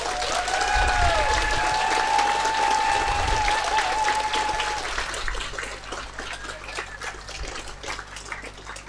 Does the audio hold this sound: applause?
yes